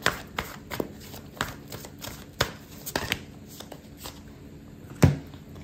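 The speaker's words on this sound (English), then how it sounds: "I'm gonna pull out an oracle card for you" Oracle cards are shuffled by hand at a tarot reading, giving a series of soft, close riffling snaps and taps spaced irregularly, with a slightly louder slap near the end and no talking.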